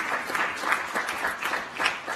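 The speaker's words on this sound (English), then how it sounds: "can we clap hands once more for the President for those words of wisdom?" A crowd applauding a president at a formal gathering, dense steady clapping throughout at moderate volume.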